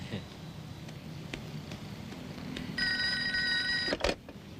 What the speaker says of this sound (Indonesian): Sari, ada telepon.